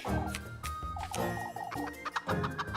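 Chickens cluck in the village of the game Little Goody Two Shoes, several close, busy bursts of clucking and squawks overlapping against a soft background.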